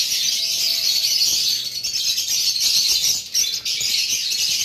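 High-mutation lovebirds kept for sale chatter and chirp together in a constant, bright, busy din that is close and fairly loud, with a few brief dips in intensity.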